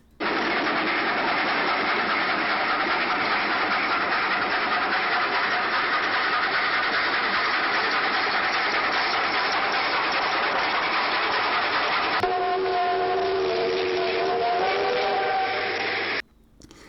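A train on the Dona Tereza Cristina railway, a century-old British-built coal line in southern Santa Catarina, rumbling steadily and loudly for the whole stretch, with engine drone and a brief tonal whistle-like sound near the end.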